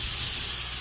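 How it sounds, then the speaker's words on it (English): Spray foam insulation rig blowing plain air through its nozzle in a test before the chemical is sprayed, a steady broad hiss throughout, close and constant. "you can hear they're spraying air"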